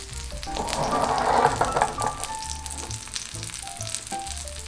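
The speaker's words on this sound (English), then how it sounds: "reduce the heat slightly to prevent the okonomiyaki from burning too quickly" Steady frying sizzle of okonomiyaki in a frying pan, loud and close, with a crackly hiss that swells early then settles into an even sizzle.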